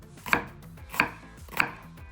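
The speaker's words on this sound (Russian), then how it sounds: "Нарезаем соломкой." Three evenly spaced knife strokes cut through yellow and red bell peppers on a board, slicing them into thin strips; each chop lands as a crisp, close tap with quiet gaps between, and no one speaks.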